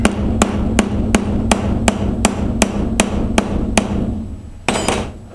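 Steady hammer blows round out marks on a metal motorcycle frame for a Honda CBR600 electric conversion, about a dozen evenly spaced sharp metallic strikes over a low hum, followed by a brief scraping clatter.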